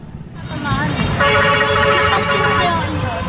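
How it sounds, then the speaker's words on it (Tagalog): Passing vehicles on a street during a brawl between two groups of minors blare their horns in overlapping, sustained honks, loud and close, rising over the traffic noise of the road. "Ang mga dumaraang sasakyan, wala nang nagawa, kundi bumusina."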